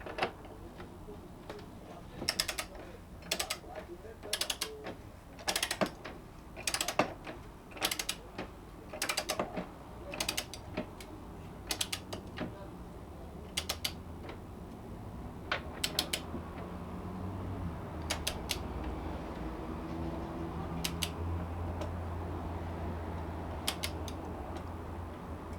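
A torque wrench tightens a nut on a Kawasaki ZZR1400 motorcycle to 127 Newton meters. A long run of faint, close ratcheting clicks comes in uneven bursts, then gives way to quieter creaks and a low hum.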